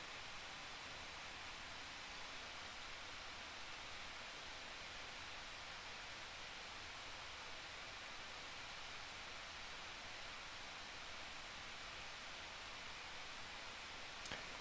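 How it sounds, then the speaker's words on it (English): Razer Blade 14 laptop (2021) with its cooling fans at maximum, a steady, even rushing hiss that holds unchanged throughout, close and alone. "since I've got the fans on max, I'm gonna go ahead, do a little sound test for you guys"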